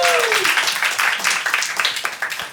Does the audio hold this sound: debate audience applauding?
yes